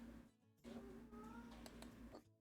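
A house cat meows indoors in a quiet room, a short tonal cry that rises and wavers over about two seconds, soft and close.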